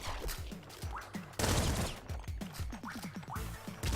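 Grenade rifle blasts in the game Nuclear Throne, a quick string of punchy explosive shots with a louder burst near the middle, mixed with chirpy arcade effects and rising blips.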